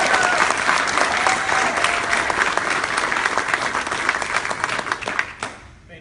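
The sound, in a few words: audience applause at pitch session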